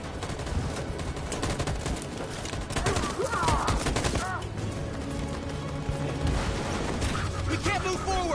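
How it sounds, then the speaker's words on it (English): Sustained machine gun fire from Detroit: Become Human rattles loudly in dense bursts across the whole stretch, with battle noise around it. "That machine gun is taking down everything that moves!"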